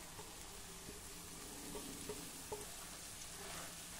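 Finely chopped spring onions sauté in oil with a spice paste, giving a faint, steady sizzle with a few soft stirring taps and no talking.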